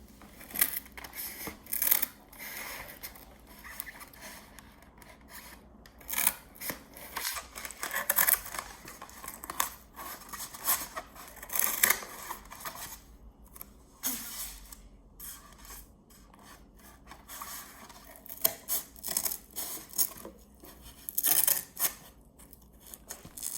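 Cardboard being cut to make a desk, heard as irregular close bursts of scissor snips and rasping scrapes with short pauses between strokes, and no speech.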